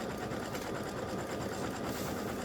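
An embroidery machine stitches continuously, a steady fast mechanical whir and rapid needle chatter held at an even, moderately close level throughout.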